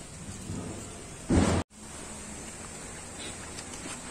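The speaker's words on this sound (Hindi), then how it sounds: "बारिश तो कुछ ऐसा आ रहा है, धीरे धीरे बारिश आ रही है" Steady light rain hisses in the background in Arunachal Pradesh, with a brief louder burst and a momentary dropout partway through.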